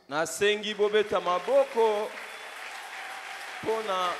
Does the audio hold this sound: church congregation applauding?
yes